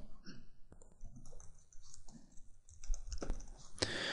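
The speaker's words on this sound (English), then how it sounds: "manually type in the URL" A URL typed on a computer keyboard: faint, irregular key clicks and taps, quiet and close, with no voices.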